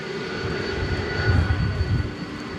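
Jet airliners at DFW Airport at night produce a steady, broad engine roar with a faint high whine, swelling slightly midway through as a plane passes at moderate distance.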